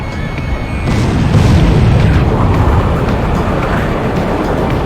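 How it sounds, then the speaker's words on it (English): A missile launches from the airborne fortress Gleipnir in Ace Combat X: Skies of Deception, a loud, continuous roaring rumble that swells after about a second and then holds steady to the end. "Airborne Fortress, missile launched."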